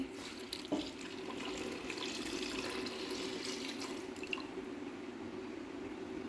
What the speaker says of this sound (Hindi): अब हम इसके अंदर डालेंगे पानी